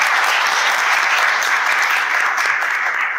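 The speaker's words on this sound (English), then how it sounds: "Can we give them a round of applause, please?" An audience at a business breakfast event applauds a sponsor, dense sustained clapping from many hands filling the room at full loudness throughout.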